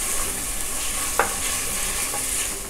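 Ginger and garlic being stir-fried in a pan for a mushroom matar pulao, a steady soft sizzle running throughout with one brief clink of a spoon or spatula stirring near the middle.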